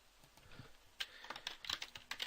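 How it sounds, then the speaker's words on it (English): Soft, quick keystrokes on a computer keyboard, an irregular patter of clicks that grows busier after a short pause, with no talking. "So I might want to type"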